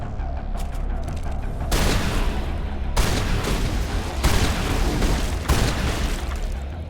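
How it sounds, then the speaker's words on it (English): Grenade explosions in the video game Mass Effect, a string of loud booming blasts with rumbling tails arriving every second or so and merging into continuous crackling battle noise. "I'll just chuck some grenades, they'll be fine"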